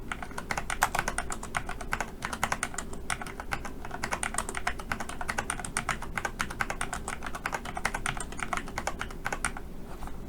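Fast, continuous clatter of keys on a computer keyboard as data is typed into an Excel spreadsheet, close and crisp, with no talking over it.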